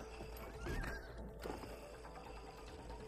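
A horse in the video game It Takes Two gives a faint whinny, followed by soft clip-clop hoofbeats, heard quietly with no talking.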